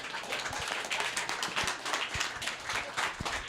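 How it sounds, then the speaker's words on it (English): Audience clapping at a Tuni Talks debriefing session, a moderate, steady patter of many hands heard at a modest distance, with a few sharper individual claps standing out. "Go ahead and clap for that one."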